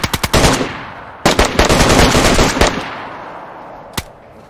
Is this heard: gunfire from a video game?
yes